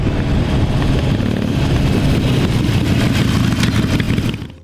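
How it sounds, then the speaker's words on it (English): A Harley-Davidson cruiser motorcycle engine roars close and loud, a dense, steady rumbling drone that holds for several seconds before cutting off abruptly at the end. "Harley Davidson motorcycles are engineered to produce strong engine braking."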